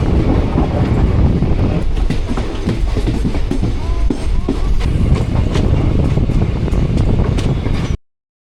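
The Mangaluru–Surat Express runs along the Konkan Railway in the monsoon, a loud, close, continuous rumble of wheels with clattering rail joints, cutting off abruptly at the end.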